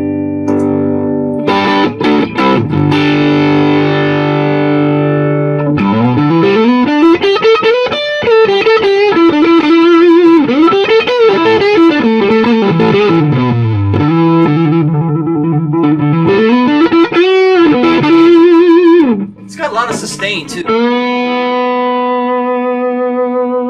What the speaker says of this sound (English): now I'm going to switch to the drive channel. And I'll let you hear what it sounds like when I do switch.